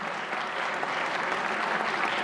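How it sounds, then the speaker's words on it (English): A hall full of people gives a steady, dense round of applause for event sponsors at a community association gathering, with no break for the whole stretch. "big round of applause to our sponsors"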